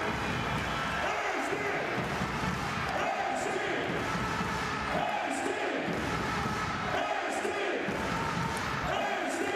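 A basketball arena crowd at a FIBA EuroBasket 2025 qualifier cheers after Estonia's win over Lithuania, a continuous roar of fans swelling and easing, with a commentator talking over it.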